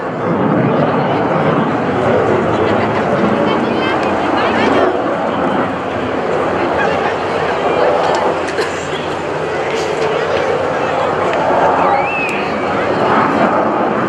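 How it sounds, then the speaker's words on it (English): An F/A-18F Super Hornet streaks past during an airshow demonstration with a loud, steady jet roar that fills the whole stretch and never lets up. "as the Super Hornet enters from the left, rolls into a 90-degree angle of bank"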